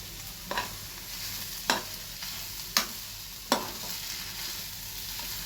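Veg roll filling being stirred in a pan with schezwan sauce and tomato sauce, a soft continuous sizzle broken by four distinct spatula scrapes at irregular intervals.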